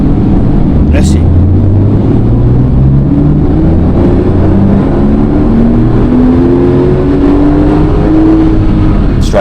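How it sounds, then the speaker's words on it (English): A new Porsche 911 Turbo S rated at 711 horsepower runs on a dyno, its engine note climbing steadily in a long, loud pull through rising gears, with a droning roar throughout. "Can it really do 711 horsepower? We're going to find out now by running it on the dyno."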